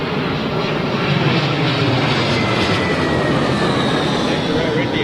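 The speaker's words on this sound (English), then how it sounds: "That's the Dreamliner. We'll get a little shot of him going out if you want" A Boeing Dreamliner jet at London Heathrow Airport gives a loud, steady roar of engines that holds throughout, with someone talking over it.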